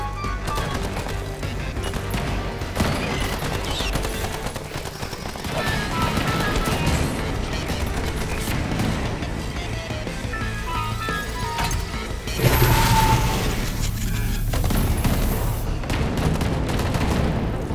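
Rapid, sustained bursts of auto turret fire in the video game Earthfall, mixed with booms and chaotic combat noise, loud and continuous with a heavier blast partway through.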